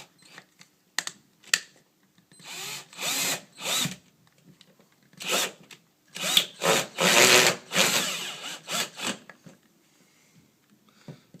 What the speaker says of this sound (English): I'm just going to go ahead and put them in by drill